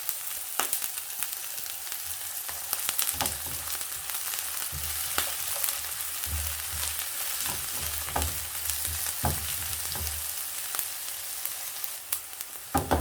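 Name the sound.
onion sautéing in cooking oil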